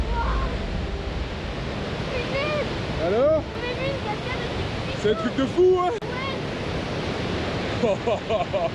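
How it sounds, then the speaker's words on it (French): A steady roar of a waterfall's rushing, falling water below a tunnel in Tajikistan fills the scene while people talk and exclaim over it. "Regarde la cascade en dessous."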